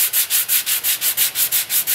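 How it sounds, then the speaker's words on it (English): A sanding block is pushed back and forth along a sharp wooden edge to strip off paint, giving about ten steady, even rasping strokes in a regular rhythm, close and clear with no voices. "The easiest way to do that is to use a sanding block."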